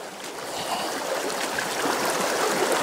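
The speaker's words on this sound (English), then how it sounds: "We've got a lovely bit of running water down there" Running water from a stream rushes and babbles steadily, a constant moderate hiss with small splashes throughout.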